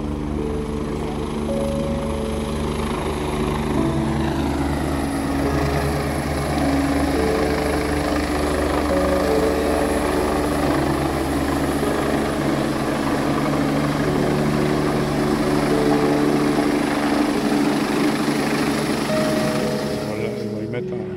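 A rescue helicopter's rotor and engine drone steadily and loudly overhead with a constant thudding hum throughout, at the ruins of the Malpasset dam.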